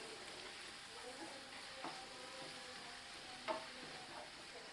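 Ginger garlic paste fries in a pan for chicken sukka, a faint, low sizzle with a few light clicks of a spoon stirring, quiet and close.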